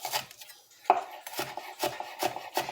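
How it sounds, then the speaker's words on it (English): A knife chops an onion on a board in a home kitchen with quick, crisp strokes, about five close, fairly soft cuts in an uneven rhythm. "I'm using a standard onion cut"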